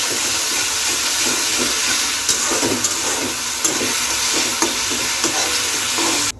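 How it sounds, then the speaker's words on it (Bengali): Ground green chilli, ginger and garlic paste fries with a steady hiss in a pan, stirred with a spoon in scraping, knocking strokes, close and fairly loud, with no talk. "এই যে বেটে রেখেছি কাঁচা লঙ্কা আদা আর রসুন একসাথে এটা দিয়ে দেবো ভালো করে কষিয়ে নিতে হবে"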